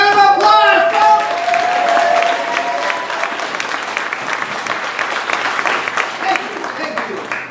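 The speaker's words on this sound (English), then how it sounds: "Give them a big round of applause, folks!" A crowd at a Rum Runners show applauds local musicians. The clapping starts loud and dense with some ringing tones at first, then settles into sustained clapping that fades slowly.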